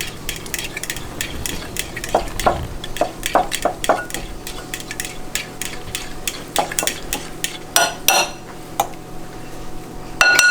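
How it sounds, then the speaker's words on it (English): Ribs stirred in melted butter in a pan: repeated scraping and clinking of a utensil against the pan over a low background sizzle, close and fairly loud, with no talk. "I've already melted some butter here. So I'm going to stir this."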